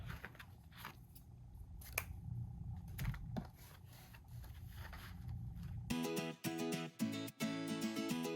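Sharp scissors snip through 1.5-inch ribbon in several crisp cuts, fairly faint, then music comes in over the final seconds.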